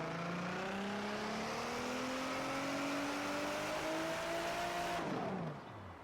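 Hennessey-tuned 3.5 liter EcoBoost engine in a Velociraptor 6x6 truck in Forza Horizon 4, revving in a long steady climb of rising pitch that cuts off sharply near the end, leaving quiet.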